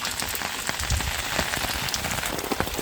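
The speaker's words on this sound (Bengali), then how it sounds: "বৃষ্টি আরও জোরে আইছে দেখেন মানে একটু আগে একটু আস্তে আস্তে হচ্ছিল এবার জোরে আসছে বৃষ্টি" Heavy rain pouring steadily on a farm pond area, a dense, loud, continuous patter of drops striking surfaces close by, with no voices.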